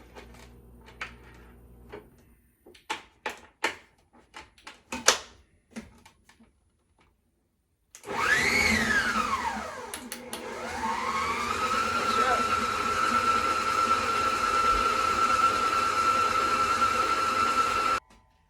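Electric stand mixer running with its large bowl while making carrot cake cupcake batter with avocado oil, a steady loud whirring motor hum that ramps up and then holds for about ten seconds, after a few clinks and knocks.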